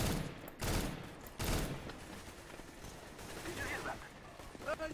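Several sharp rapid gunshot bursts from the shooter game CS:GO, played in a JailBreak mode, crack loudly near the start, then fade into quieter in-game noise with a person talking.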